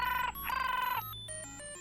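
A telephone line rings on a live radio show, with repeated bright electronic ring bursts, a short gap, then further tones shifting in pitch, clear and close with no talking.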